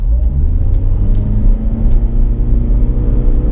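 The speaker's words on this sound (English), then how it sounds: "Listen to that engine, it sounds like I'm grinding coffee to make breakfast." A 2017 Lexus CT200h hybrid accelerating from inside the cabin, its engine giving a loud, steady droning rumble with a coarse, grinding edge that holds at a constant pitch, close and alone.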